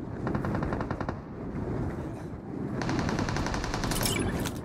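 Rapid automatic gunfire in the mobile battle royale game BGMI rattles in sustained bursts, distant-to-mid range, with overlapping rounds and a brief lull midway, no speech.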